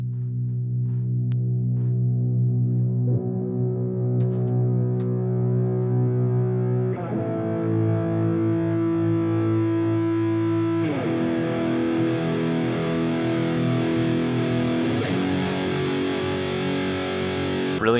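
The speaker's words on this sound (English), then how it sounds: "Really nice crunchy guitar sound" Crunchy distorted electric guitar chords filtering into the bridge of a song mix, sustained and loud, changing chord roughly every four seconds with brightness opening up over time.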